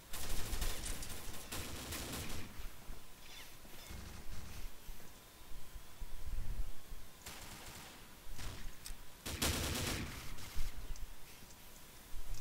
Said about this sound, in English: The only reason why I got that headshot is because I'm using a P90TR.